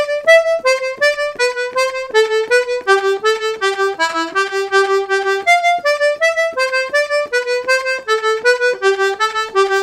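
Piano accordion plays Brazilian baião in the right hand with doubled sixteenth notes, a bright reedy melody of rapid repeated pairs moving through steady rhythmic phrases, close and clear with no talking.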